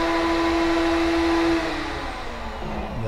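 A CNC router carving lettering into a sign runs with a steady, loud motorized whine and a strong sustained tone, then drops slightly in level and continues as a broad, even hum.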